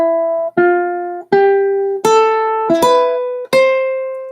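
A ukulele plays a rising scale of six or so plucked notes, each ringing briefly, growing from soft to loud with no talking.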